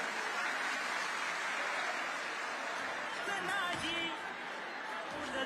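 Audience applause at a Marathi political gathering, a steady dense wash of clapping that holds at an even level throughout with a few faint shouts near the end.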